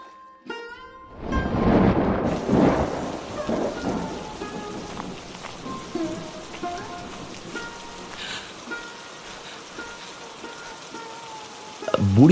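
Heavy rain pours down steadily while loud thunder rumbles and cracks close by near the start, then the downpour carries on with fainter distant rolls.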